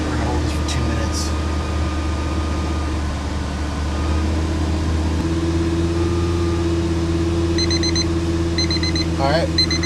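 A Lamborghini Gallardo engine is held at high revs, a sustained loud droning hum with steady harmonic tones, while intermittent electronic beeps chirp over it.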